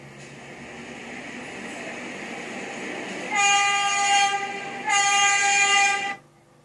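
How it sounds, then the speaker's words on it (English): An edited subway train horn from the Trainz 12 simulation game sounds two loud sustained blasts, the first about a second and a half and the second slightly longer, over a steady low rumble. "Okay, this horn's working after being edited a little bit."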